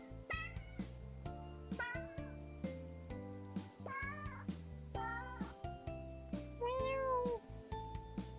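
Several cats meow in turn, sometimes overlapping, each call a rising-and-falling wail repeated roughly every second, close and clear with no talking.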